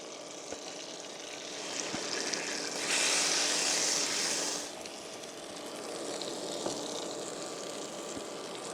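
A steak sizzles and fries steadily on an electric cooker, a continuous hissing spatter with a louder, brighter burst of sizzling partway through before settling back to a steady crackle.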